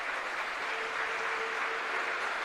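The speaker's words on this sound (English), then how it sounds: "he will no doubt receive a warm round of applause now as he is wheeled off the field" A crowd at a Cardiff City versus Peterborough United under-21 football match applauds an injured player as he is wheeled off the field, a steady, distant wash of clapping lasting throughout without gaps.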